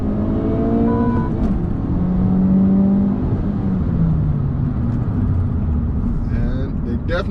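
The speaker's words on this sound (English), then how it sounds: "I'm gonna do a quick little downshift" Honda Civic Type R engine through a downshift, a loud, continuous engine drone with a rising and falling rev tone, heard from inside the car under a talking voice.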